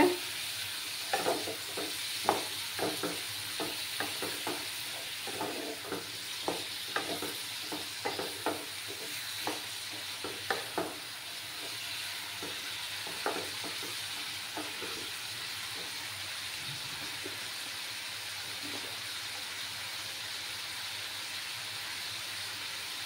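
Potato and tengra fish curry being sautéed and stirred in a pan, a steady sizzle with repeated scraping strokes of the spatula for the first half, then a calmer continuous fry.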